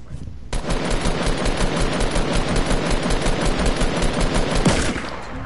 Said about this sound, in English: Who's shooting with a revolver?